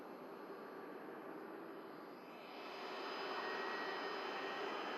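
Norse Dreamliner jet starting a long, heavy takeoff roll at Manchester Airport, a steady broadband roar that swells and grows louder partway through as the engines spool up, heard from a distance.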